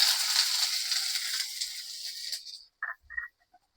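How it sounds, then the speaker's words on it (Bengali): Boiled chaam greens and coriander leaves fry in hot oil with a bright, loud sizzle and hiss that suddenly dies away, leaving a few faint pops and crackles. "এবারে আমি ধনিয়া পাতা ও চাম শাকগুলো তেলে ভেজে নিব"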